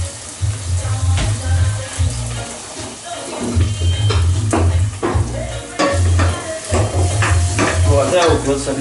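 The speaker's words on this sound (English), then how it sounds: "Onions and garlic burning just a little bit." Onions and garlic fry and sizzle in a pan, slightly burning, with steady crackle and repeated stirring scrapes under a low hum; occasional quiet voice.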